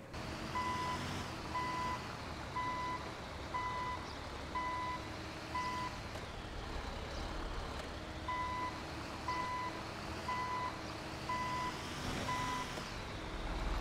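A truck backing into a shop in GTA 5 gives off evenly spaced reversing beeps in two runs, over a steady engine rumble with no talking.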